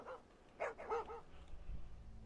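A dog barking in a video game, a few short yips and barks up close at low volume, followed by quiet background game ambience.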